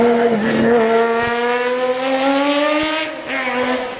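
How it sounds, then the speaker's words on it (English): A McLaren F1 GTR Longtail race car drives at a motorsport festival, its loud, harmonic engine note wailing steadily and shifting pitch slightly, close and continuous, with no voices. "This is the McLaren F1 GTR Longtail."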